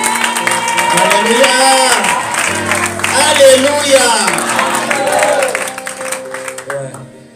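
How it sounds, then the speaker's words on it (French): A church congregation rises in a loud, sustained ovation of applause, cheers and shouts, with voices calling out and singing over the crowd noise throughout. "Est-ce que l'église peut se lever et rendre des ovations au Saint-Esprit qui nous a fait?"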